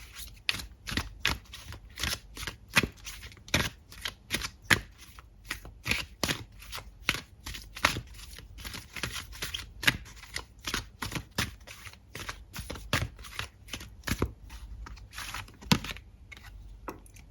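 Tarot cards are shuffled by hand in a steady run of crisp riffling flicks and snaps that repeat every half second or so, close and fairly loud, with no voices.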